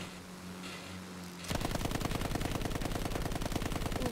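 Vehicle-mounted machine gun in the video game Battlefield 1 opens up after a quiet, humming lull, firing a loud, rapid, evenly spaced stream of shots that continues without pause to the end.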